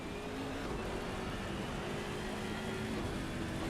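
BMW M6 race car engine in the racing game Assetto Corsa Competizione at Monza in wet conditions, a steady, muffled roar held at constant level, apparently heard from a distance without any commentary.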